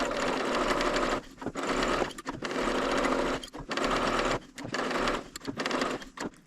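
A Bernina serger stitching dense crochet-style edging: rapid, loud mechanical whirring in bursts of about a second, broken by short pauses as the fabric is turned, close by and with no voices.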